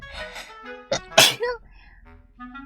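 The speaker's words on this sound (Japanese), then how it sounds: "私のくしゃみは可愛くないです" A person sneezes after tickling the inside of the nose with a twisted paper strip: breathy vocal sounds lead into one loud, explosive sneeze at close range, followed by softer trailing voiced exhalations.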